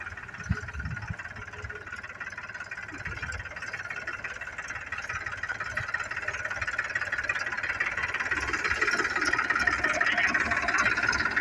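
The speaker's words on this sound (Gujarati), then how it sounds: "અમારું ટ્રેક્ટર ભરાઈને જાય છે આગળ" A loaded tractor carrying sacks of onions pulls away, its engine giving a steady mid-pitched rumble and whir that grows slightly louder over the clip, with no voices.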